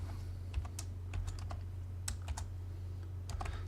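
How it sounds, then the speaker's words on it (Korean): Keys tapped on a computer keyboard to enter a shortcut in AutoCAD: a few quick, light clicks spread across a few seconds over a steady low electrical hum. "단축키를 입력하고 엔터 클릭."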